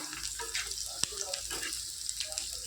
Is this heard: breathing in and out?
no